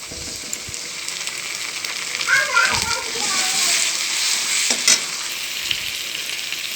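A ginger, garlic, onion and chili paste hits hot oil with already-fried onions, giving a steady close sizzle with scraping stir strokes and a couple of sharp spatula clinks, while children's voices chatter in the background.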